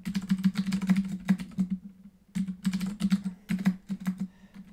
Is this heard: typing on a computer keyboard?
yes